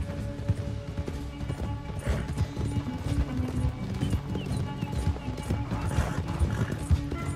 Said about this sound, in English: This horse can go!